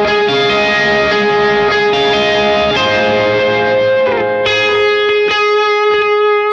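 Effects-laden electric guitar, run through a Helix or POD Go style processor, plays a lead melody for a worship song chorus, steady and loud with sustained, slightly distorted notes and light modulation, with no voices.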